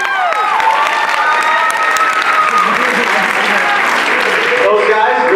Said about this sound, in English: another round of applause for awesome performance.